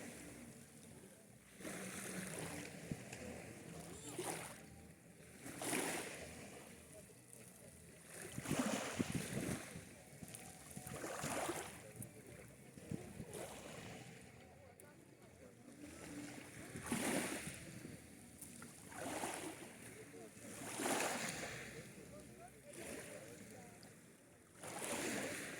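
Small sea waves lap and wash in slow, repeating surges along an evening embankment in Novy Svet, with soft wind noise in the background.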